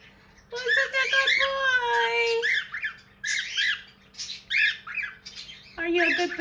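A pet bird squawks loudly and repeatedly at close range in harsh, drawn-out calls, with a person talking to it in between.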